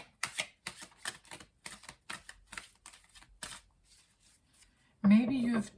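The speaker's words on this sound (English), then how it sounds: "When I shuffled, like 8 cards fell." Tarot cards are shuffled in one loud, brisk burst lasting under a second, right after a stretch of talking.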